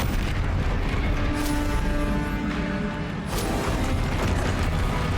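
Confringo blasting spell detonating in Hogwarts Legacy, a loud sustained boom with dense rumbling low end and a fresh burst midway, continuous combat noise throughout with no talk.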